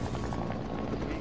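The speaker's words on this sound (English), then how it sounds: "Oh God, helicopters!" Helicopter flying in the Fortnite video game, a steady dense rotor drone that holds evenly loud through the whole short moment with no clear talk over it.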